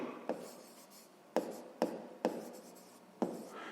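Pen writing out a sixth-grade math exercise on paper, a steady soft scratching broken by several sharp taps as the pen strikes down, close and quiet with no talking.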